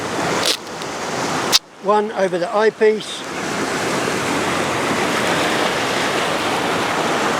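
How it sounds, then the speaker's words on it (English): Steady broadband wash of ocean surf building up at a landscape photography shoot, a continuous rushing roar that swells and holds, with a brief spoken phrase and a few handling knocks near the start. "these waves are starting to pick up a bit."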